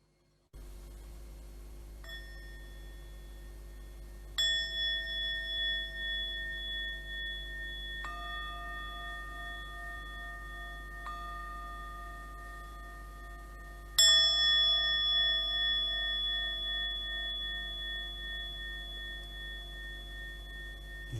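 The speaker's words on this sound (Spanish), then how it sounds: "Empecemos con la campana." A meditation bell is struck about five times at spaced intervals. Each clear, bright ring hangs and decays slowly over a low, steady hum, and nobody speaks.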